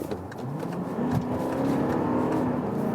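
A 2020 Volkswagen Touareg V8 SUV engine drones steadily and builds slightly while accelerating from 50 to 80, a continuous low roar heard from inside with no talking.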